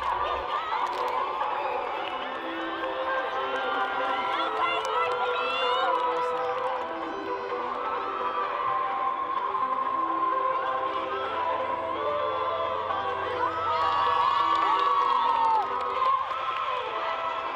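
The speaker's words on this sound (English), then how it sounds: "here's this week's Spirit Corner featuring the cheer team from Monterey Trails." A crowd roars and cheers steadily while a high school cheer team from Monterey Trails performs, with shouts and whoops mixed into a dense, continuous wall of noise.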